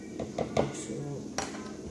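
A metal spoon stirs egg dye in a cup of very hot water, with several quick clinks and scrapes against the cup over a couple of seconds.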